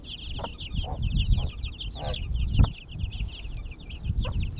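Soft, repeated clucking from a hen mixed with a constant high chorus of peeping chicks, close by in a yard, with light rustling underneath.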